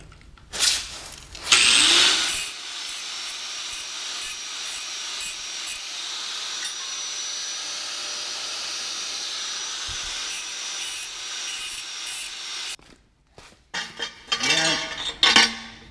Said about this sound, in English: I know that's a cut-off disc instead of a grinding disc